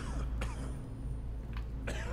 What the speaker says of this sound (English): They're all just coughing in here.